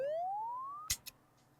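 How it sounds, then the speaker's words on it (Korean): A security alarm siren in the video game Go to Bed gives one loud rising electronic wail that climbs steadily and then cuts off, followed by two short sharp clicks and quiet. "창문을 깼을 때 사이렌 울리잖아."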